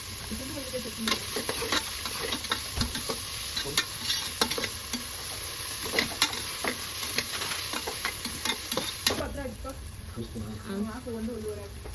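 Onions frying in a pan until deep brown, a steady close sizzle with frequent clicking stirs and scrapes, while people talk intermittently over the cooking.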